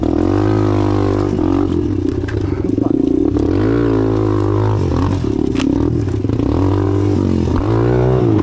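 Dirt bike engine running steadily while riding on a hot day, a loud continuous motor drone with rising and falling revs and gear changes throughout, close and alone without talk.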